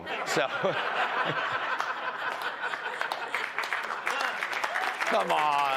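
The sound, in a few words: applause at joint address of Congress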